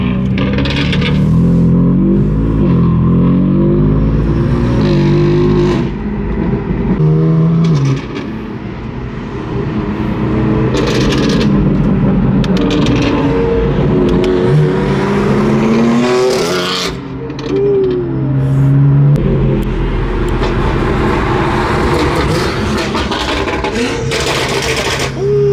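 BMW M cars, an M4 GTS, M5 Competition and M4 Convertible, cruising together with loud engine roar, revving and passing vehicles throughout, while people talk over the driving.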